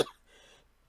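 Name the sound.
coughing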